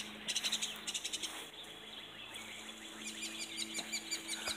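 Birds chirping outdoors in a tropical setting, faint repeated trills and quick chirp bursts over a steady hum of background noise, with no talking.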